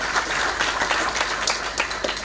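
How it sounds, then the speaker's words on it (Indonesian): Audience applause fills a graduation ceremony for applied diploma and bachelor's graduates, with steady, dense clapping from a large crowd that carries through without a break. "Tepuk tangan buat Tanah Laut."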